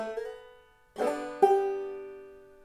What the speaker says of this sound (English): Then I'm doing the slide here from 2 to 4.